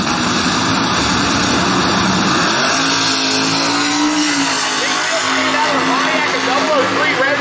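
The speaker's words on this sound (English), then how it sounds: "Tony Cafaro coming up in the Pontiac on the Lucas Oil side of the racetrack" A Pontiac drag race car roars loudly down a racetrack, its engine note sweeping upward as it accelerates, with a commentator talking over it.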